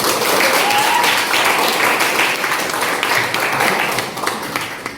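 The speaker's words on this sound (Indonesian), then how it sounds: "tepuk tangan untuk kita semua" Students in a classroom clap together, a loud burst of applause that gradually thins and fades toward the end.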